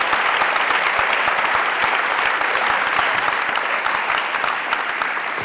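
An audience applauds panelists after a discussion, a steady dense clapping from a roomful of people that holds at an even level for several seconds before easing slightly, with no talk over it.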